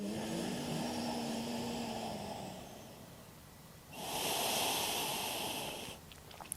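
Deep yoga breaths, a long airy exhale followed by a stronger, brighter rushing breath, each heard close and alone with no talking.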